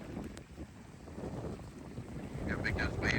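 Strong wind gusts across a lake in cold, rainy weather at a remote Canadian wilderness campsite, a continuous rough roar with buffeting against the microphone and a faint wash of waves beneath.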